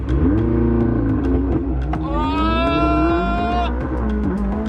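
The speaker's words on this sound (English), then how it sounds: "time for a little launch control action in the McLaren" A McLaren 600LT makes a launch-control start: a loud, close engine roar that climbs steadily in pitch through the run, with a high whining harmonic rising over the middle stretch and the revs still building at the end.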